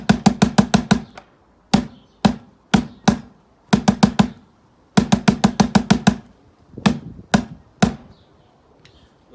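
Surdo bass drum from a samba band played alone in a lively rhythm: quick bursts of punchy hits, a rapid flurry, then spaced strokes and short clustered patterns, close and loud with no talking.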